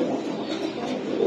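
Pigeons sold as racer and lokkha breeds murmur with a continuous low cooing close by, steady and moderately loud with no talking.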